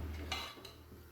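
Herbal hair oil made with coconut oil and medicinal herbs being stirred in a pot on a gas stove, a couple of quick metallic scrapes against the pot over a low steady hum.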